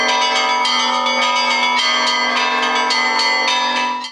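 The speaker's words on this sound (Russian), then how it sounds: "Торжественно под колокольный звон встречают екатеринбуржцы и гости города образ целителя Пантелеимона" Church bells ring at Ioanno-Predtechensky Cathedral in Yekaterinburg, loud and near, with several bells struck in a quick irregular rhythm over a sustained ringing hum, no talk.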